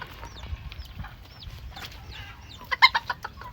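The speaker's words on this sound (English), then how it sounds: "Then I also got some small roosters here, some silver ones." Small silver Old English game bantam roosters and hens clucking at close range, a steady stream of soft clucks and calls with a louder burst of squawks near the end, no voices.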